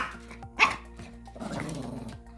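A single short, sharp dog bark, followed by a low rumbling growl, fairly close, with no talking.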